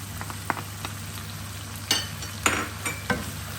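Beans and tomato sizzle in a pot as they are stirred, a steady quiet frying hiss broken by several soft scraping bursts from the spoon.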